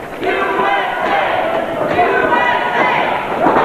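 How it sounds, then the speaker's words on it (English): A crowd at a pro wrestling event roars and cheers loudly and continuously, a wash of shouting voices from many people filling the hall. "And listen to that crowd."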